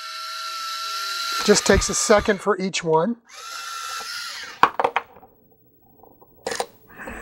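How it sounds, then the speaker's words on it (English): A small drill whirs in short bursts as it bores through a circuit board for Tortoise switch machine wiring, close up, with someone speaking in between the passes. "what I'm going to do is go ahead and drill through here."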